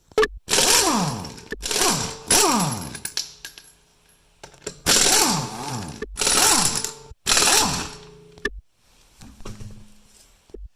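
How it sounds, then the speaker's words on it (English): An impact gun fitted with a 21 mm socket works the lug nuts off a 2018 Toyota Camry wheel, close and loud: several sharp rattling bursts of hammering, each about a second long, separated by brief pauses, with no talk over them. "you need a gun and a 21 millimeter socket to open the wheel"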